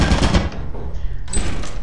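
Lethal Company turret fire: a short, loud, rapid string of shots rattles close by, dips briefly, then resumes, with no talk over it.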